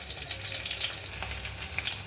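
Black cumin seeds and green chili sizzle in hot oil, a steady close crackling fry with faint stirring and no talk.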